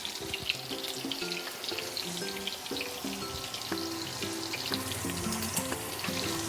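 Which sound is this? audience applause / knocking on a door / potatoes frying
potatoes frying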